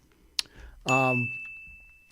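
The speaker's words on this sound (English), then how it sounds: "I'm doing the 10 bell salute." A single bell strike from a ten-bell salute at a wrestling show rings out, a sharp metallic ding with a long sustained ring that slowly fades, with a small tap just before it.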